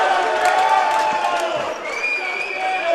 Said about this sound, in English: Crowd is going absolutely wild right now as Jet Hins enters the game.